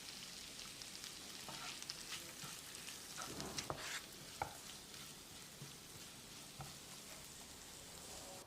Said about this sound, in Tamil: ரெண்டு கொத்து கருவேப்பிலையும் சேர்த்து வெங்காயத்தை 1 நிமிஷம் வதக்கிடலாம்.